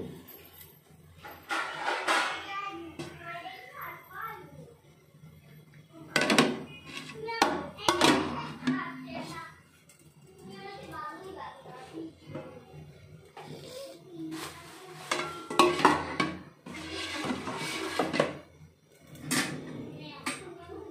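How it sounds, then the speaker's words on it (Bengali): A lid clatters onto a pan while pitha cooks, a brief metallic knock among other kitchen clinks and a person talking throughout. "এবার আমি ঢাকনাটা দিয়ে দেব।"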